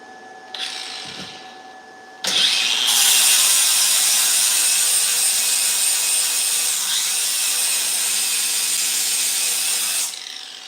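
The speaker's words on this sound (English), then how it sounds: "I gotta sand this one down too." A wooden axle part is sanded by hand, giving a steady, close, scratchy rasp that runs unbroken for about eight seconds after a few short handling rubs.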